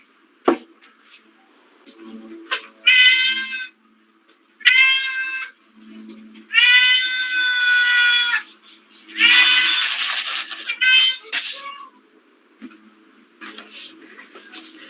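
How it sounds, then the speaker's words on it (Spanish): A house cat meows repeatedly and loudly close by, a series of drawn-out, insistent cries with short gaps between them, alongside faint clicks and background noises and no talking. "Es que ya llegó el gato."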